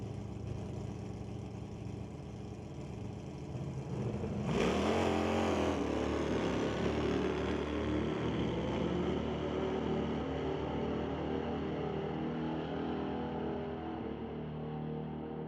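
Drag racing at Mission Raceway Park, a Pontiac Phoenix against a 1974 Gremlin: steady engine idle, then a sudden loud launch with roaring acceleration that stays strong and slowly fades as the cars pull away.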